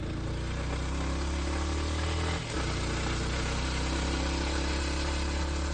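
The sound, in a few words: motorcycle engine running in second gear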